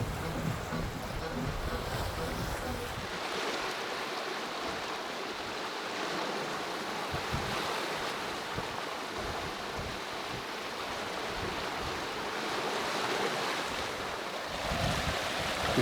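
Ocean waves and strong wind on a sailboat far out at sea, a loud, continuous rush of wind noise over surging water, with faint voices now and then.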